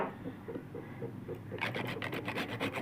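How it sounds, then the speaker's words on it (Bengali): Whole nutmeg grated by hand into a paneer pulao mixture: quick, even rasping strokes begin about halfway through and repeat steadily and close, with softer kitchen sounds before them. "একটুখানি জায়ফল আমি এটার মধ্যে গ্রেট করে দেব।"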